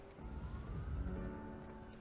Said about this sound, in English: The sirens are close now.